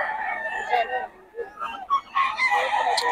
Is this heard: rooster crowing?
yes